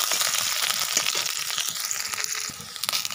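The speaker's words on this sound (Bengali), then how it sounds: "কড়াতে যে তেল দিয়ে পেঁয়াজ দিয়ে দিয়েছি" Onions frying in oil in a kadai give a dense, steady crackling sizzle with scattered sharper pops, close and continuous throughout with no voices.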